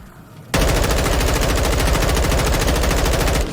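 Sustained automatic gunfire from a first-person shooter played on mouse and keyboard erupts after a brief quiet moment, a loud, rapid, continuous burst lasting about three seconds before it cuts off.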